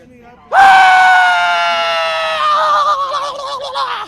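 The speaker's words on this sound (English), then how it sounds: "I'm going to close it off with my own scream" A man lets out a long, loud, sustained scream that starts abruptly, holds for several seconds and wavers toward the end, with faint crowd noise underneath.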